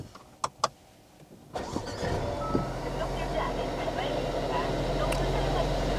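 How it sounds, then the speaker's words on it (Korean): A Mercedes-Benz A220 with the driver's door open gives a couple of sharp clicks. Its engine then cranks and catches with a loud rising roar, settling into a steady, strong idle. "시동을 걸어서 보여드릴게요"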